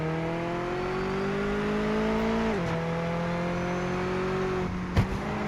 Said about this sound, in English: Oh, that car doesn't sound very well.